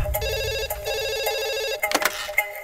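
A telephone rings with a steady warbling electronic trill for nearly two seconds, loud and close, then cuts off into brief clattering sounds.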